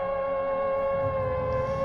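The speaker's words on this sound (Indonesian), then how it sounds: "Tiba-tiba mobil ambulan datang." An ambulance siren used as a sound effect in a narrated story, heard as a sustained steady tone held for the whole stretch at moderate level, with no talking.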